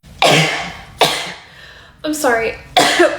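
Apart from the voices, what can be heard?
person coughing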